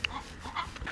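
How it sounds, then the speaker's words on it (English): A dog whimpers and yips in short, faint, high-pitched bursts while being chased outdoors on a farm, quick overlapping cries across a brief moment. "stop chasing my dog."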